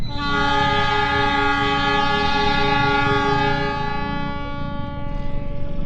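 A passenger train's horn blares long and loud with steady layered tones at a level crossing east of Arjawinangun station, Indonesia, the rumble of the passing train beneath it, close by.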